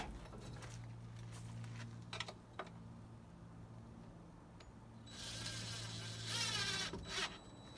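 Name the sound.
driving a screw to mount a succulent panel planter on a wall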